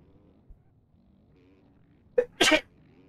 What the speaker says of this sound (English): Oh, there's a sneeze coming.